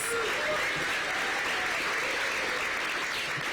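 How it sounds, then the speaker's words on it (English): Applause from an audience for a performer named Miss Sadie Mae at a school event, an even, continuous roar of clapping, fairly close and sustained, with faint crowd voices and cheering underneath. "give a big round of applause to Miss Sadie Mae"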